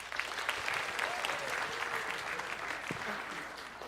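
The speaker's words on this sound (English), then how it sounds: "give him a round of applause" Steady audience applause fills a chapel during a Black History celebration, dense continuous clapping throughout with faint voices mixed in.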